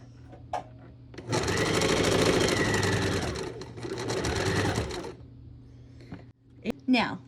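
Sewing machine stitching fabric squares together for a quilt, a steady close mechanical whirring run of about four seconds with a brief pause, followed by faint clicks and handling.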